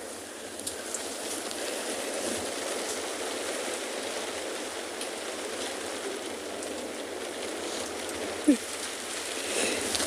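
Steady rain falling outdoors at a quiet wildlife spot near the water, a soft, even patter and hiss running continuously, with one brief louder knock near the end.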